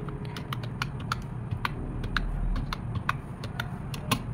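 Rapid, uneven keystrokes on a computer keyboard while a prompt is typed into ChatGPT, close and steady over a low room hum, with no voices.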